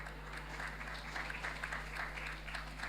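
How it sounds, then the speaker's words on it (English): Faint, steady audience applause rises at a Carifesta stage event in Barbados, a distant wash of clapping over a constant low electrical hum. "I will take the applause again"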